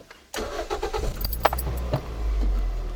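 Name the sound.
2001 Toyota Yaris TS engine being restarted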